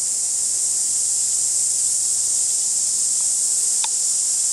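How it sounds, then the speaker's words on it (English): Loud, continuous high-pitched buzzing of cicadas fills the air at Karangahake Gorge, New Zealand, steady and unbroken throughout. "you eat those cicadas, they're noisy."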